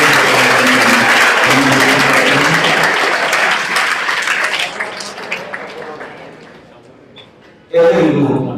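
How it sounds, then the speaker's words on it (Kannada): Students at a speech event burst into loud applause, which fades gradually over several seconds before a brief loud surge at the end, with no talking during it. "ವಿದ್ಯಾರ್ಥಿ ಮಿತ್ರರು ಚಪ್ಪಾಳೆಯನ್ನು"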